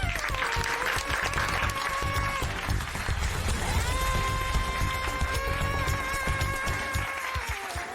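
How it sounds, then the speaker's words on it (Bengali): An audience applauding contestants at a music competition round, dense sustained clapping close and loud throughout, with background music tones running underneath. "সবার জন্য একটা জোরে হাততালি হয়ে যাক।"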